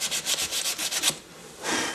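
Sandpaper rubbed quickly back and forth over a seam on a body panel being prepped for paint, about nine rapid rasping strokes, then a pause and a longer smooth rub, close and clear.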